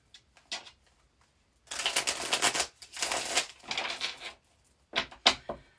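Tarot cards being shuffled by hand in quick riffling bursts, close and crisp, with short pauses between each run and no talking.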